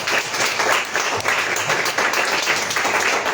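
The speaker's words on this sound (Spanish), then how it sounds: "Dale un fuerte aplauso al Señor por favor." A church congregation claps in a dense, loud, continuous round of applause that carries through the whole moment without letting up.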